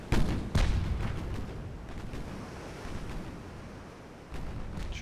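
Naval gunfire from the 6-inch port-side secondary battery of the battleship Bismarck in Ultimate Admiral: Dreadnoughts: two heavy booming reports close together at the start, then a rolling rumble with further distant thuds over a sea backdrop.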